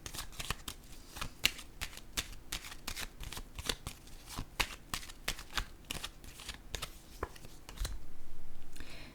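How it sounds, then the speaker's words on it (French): Tarot or oracle cards shuffled and drawn, giving soft, quick riffling and flicking snaps in an irregular rhythm, close and quiet, with a brief low rustle near the end. "Je vais piger une carte ici."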